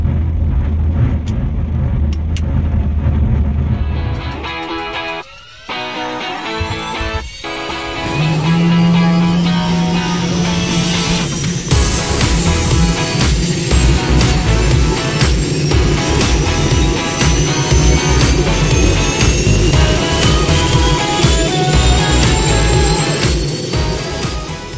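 A Robinson R44 Raven II helicopter engine starts up, first a low rough rumble that briefly cuts out, then catches and settles into a loud steady running drone with a rising whine, close and continuous without speech.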